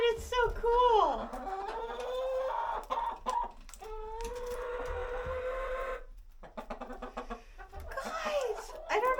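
A chicken clucks repeatedly and close by outdoors in minus-40 cold, its short, rising calls coming in irregular bursts with brief gaps between them.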